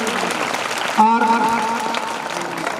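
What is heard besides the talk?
applause for a student at a school event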